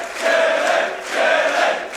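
A crowd at a video game tournament match cheers in two loud, roaring swells, with no clear speech.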